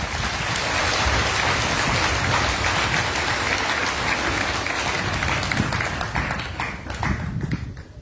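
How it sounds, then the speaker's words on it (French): A church congregation at a first Mass celebration applauds steadily, a dense wash of many hands clapping that stays loud throughout and tapers off near the end, with no voices over it. "nous acclamons une fois de plus pour eux"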